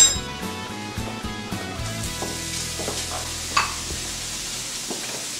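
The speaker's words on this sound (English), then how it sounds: "Right now I'm going to add the peppers to the olive oil in the pan to roast them." Peppers, mushrooms and onions sautéing in olive oil in a pan, a steady soft sizzle with occasional clinks of a utensil against the pan, close by.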